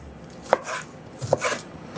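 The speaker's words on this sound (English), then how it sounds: "I'm going to start with dicing my tomatoes" Knife dicing fresh tomatoes on a board for a pink salmon casserole: three sharp, close chopping strikes spaced irregularly, each followed by a brief scrape, with quiet gaps between.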